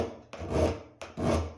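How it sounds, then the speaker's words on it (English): A very fine file drawn down the edge of a glue scraper, two rasping strokes in slow rhythm, each a loud close grating sweep separated by a brief pause. "get yourself a very fine file like that, and just go down your file it down your scraper like this"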